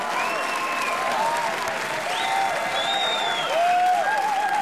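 A live television audience applauds after a duo's performance, steady, full clapping throughout, with an excited voice calling out over it.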